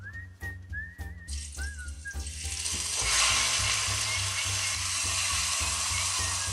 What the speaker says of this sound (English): we seared it in just a little bit of olive oil.